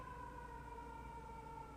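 An emergency siren wails steadily at a distance, a single sustained tone held throughout over low traffic rumble, with no voices.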